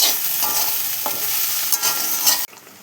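Okra and potato fry in a pan with a loud, continuous sizzle, broken by a few scraping stirs before the sound cuts off sharply.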